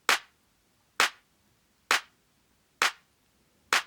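Five evenly spaced, crisp layered clap hits, roughly one per second, each sharp and bright with a quick decay into silence, with the stacked samples spread across left and right.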